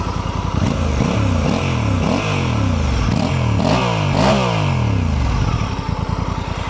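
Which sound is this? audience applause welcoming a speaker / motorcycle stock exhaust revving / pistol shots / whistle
motorcycle stock exhaust revving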